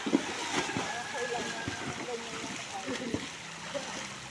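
Splashing water from a 62-year-old British national swimmer doing freestyle without breathing, a steady churn of irregular slaps and sloshes in a pool, with voices in the background.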